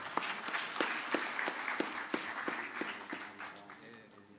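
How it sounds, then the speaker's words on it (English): An audience at a university innovation exhibition gives a round of hand clapping, sharp individual claps standing out from a softer mass of applause that slowly thins toward the end, with a voice faintly underneath. "Please, a hand clap."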